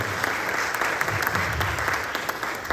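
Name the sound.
audience applause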